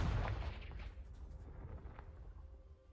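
A Confringo blasting spell explosion in Hogwarts Legacy goes off as a heavy boom with a quick crackling burst, followed by a decaying rumble and scattered debris-like pops over a few seconds, with no voices.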